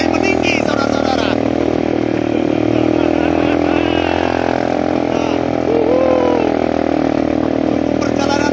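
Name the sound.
motorcycle engine revving up on mountain road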